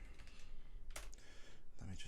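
Typing on a UK-layout computer keyboard, a few quick, light key clicks spread across a short stretch, fairly close and quiet with faint background noise and no voices.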